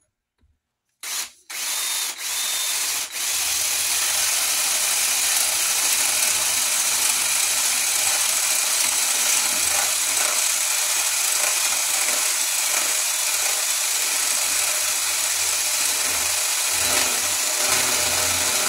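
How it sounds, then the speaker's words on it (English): A power drill runs steadily and loudly after a couple of brief starts, whirring continuously as the bit bores through white oak for an axe handle, close to the microphone. "I can see because the point of the drill bit has already came through."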